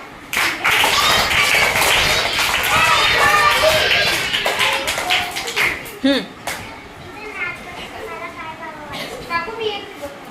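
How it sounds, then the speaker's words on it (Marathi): A group at an anganwadi (childcare centre) claps together, mixed with children's chatter and voices; the loud, dense clapping fills the first six seconds and then thins into scattered taps under continued talk. "टाळ्या वाजवा"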